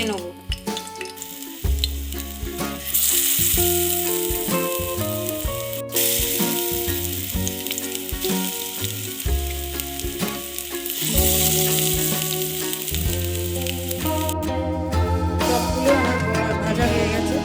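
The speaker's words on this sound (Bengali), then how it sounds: "কর্নফ্লাওয়ারে ডুবিয়ে আমি এগুলো ভেজে নেব" Cornflour-dipped fish chops frying in hot oil in a pan for a fish curry, a steady loud sizzle and crackle with occasional stirring and utensil clinks, no voices.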